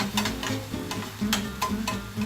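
Holy basil chicken stir-fried in a hot pan, a steady sizzle with repeated scraping stirs of the spatula, loud and close, no talking.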